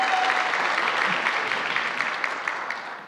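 A church congregation bursts into sustained applause and cheering, a dense roar of clapping hands that holds steady and begins to fade toward the end.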